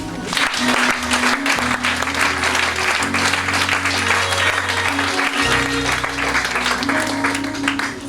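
Church congregation applauding and cheering during a worship service, sustained loud clapping throughout with music playing underneath.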